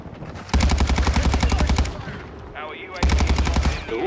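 Automatic gunfire from the video game Modern Warfare 2 comes in two long, close, rapid bursts separated by a short pause.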